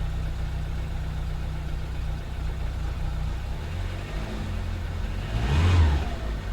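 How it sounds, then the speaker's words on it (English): A poorly running 1.6 FSI car engine, still cold, idles with a low steady hum, then revs up sharply near the end before settling back down. "It's revving okay, but it's still cold."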